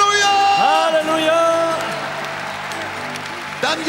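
Church congregation at a gospel revival meeting clapping, whooping and cheering loudly, with sung voices and shouts over sustained applause that tapers slightly toward the end.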